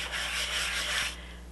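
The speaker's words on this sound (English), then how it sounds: "you can just kind of rub over it with a roller or your fingers to make sure that it's well adhered" A roller or fingertips rub back and forth over a silkscreen stencil laid slick side down on polymer clay, a soft continuous sanding-like scrape that stops near the end, close and quiet.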